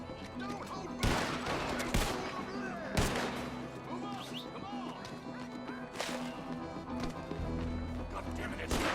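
Red Dead Redemption 2 gunfight, sharp gunshots cracking at roughly one-second intervals amid a busy mix of game noise, with shouting voices in between.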